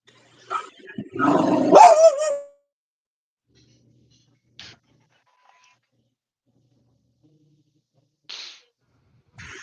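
A dog barks at the start in a loud, close run of yelps mixed with a voice. Then come long quiet gaps broken by a few short, sharp bursts.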